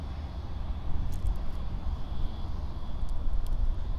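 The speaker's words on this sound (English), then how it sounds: "So that Bamboo is now taxiing under runway 34 left" A Bamboo Airways jet taxis at Sydney Airport near runway 34 left, a steady low engine rumble and roar heard from a distance, fairly constant throughout with a few faint clicks on top.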